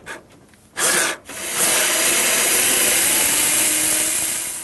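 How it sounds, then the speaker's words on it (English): Bolts holding the motor of a front-load washing machine being undone, heard as two short rasping bursts followed by a steady, loud, close grinding whir that runs to the end, with no talking. "we've just got these couple of bolts to undo."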